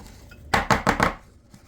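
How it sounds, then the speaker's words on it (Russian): A baking pan holding apple charlotte batter is tapped four times in quick succession. The knocks are sharp, close and clattery, and no one speaks. "а потом можно формой немножечко постучать"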